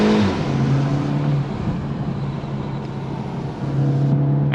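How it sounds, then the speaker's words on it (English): Engine of a tuned 300 hp VW Golf GTI MK8 pulling hard on an unrestricted autobahn, a steady low drone with road and wind roar, easing slightly mid-way then building again, no voices. "The sound of this car is not that impressive"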